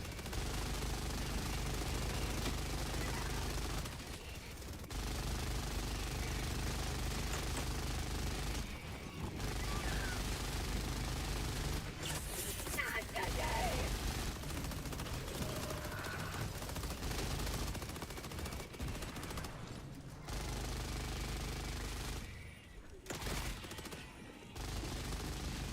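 Sustained minigun fire from Team Fortress 2 rattles on almost continuously, broken by a few brief gaps, along with other dense game combat noise and no speech.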